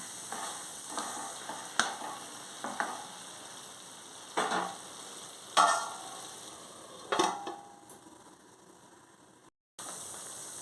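Brinjal and drumstick curry with tomatoes and curry leaves being stirred in a pan, village style: a handful of scattered scraping strokes over a low sizzle, with a sharp knock near the end and no talking.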